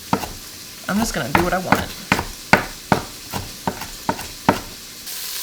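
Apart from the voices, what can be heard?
sausage sizzling while frying in pan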